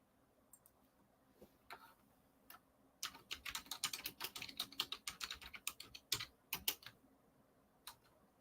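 Rapid clicking keystrokes on a computer keyboard, typing into a search bar, come in a dense burst of taps with a few scattered clicks before and after, close and clear in a quiet room.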